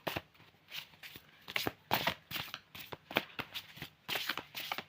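A tarot card deck being shuffled gives rapid papery riffles and flicks in quick bursts, close and fairly quiet, with no talk.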